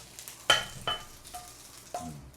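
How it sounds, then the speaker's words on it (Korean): Sausage grilling in a pan, heard as a faint background sizzle broken by a few sharp spits and pops, recorded close and without talk. "소세지 잠깐 굽는데"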